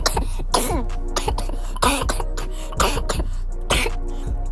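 Close-up, someone coughs harshly several times in quick succession, each fit a rough burst of throat-clearing hacks.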